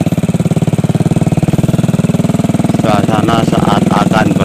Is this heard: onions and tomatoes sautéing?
no